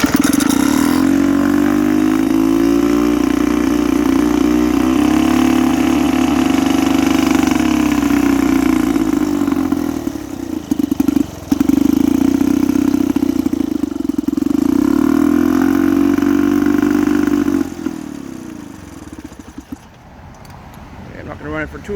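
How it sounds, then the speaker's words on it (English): A 1957 Sears Elgin 2HP outboard engine, already warm and running in a bucket of water, buzzes loudly and steadily at idle, with slight pitch swells and a short dip before it winds down near the end. "let me start the engine."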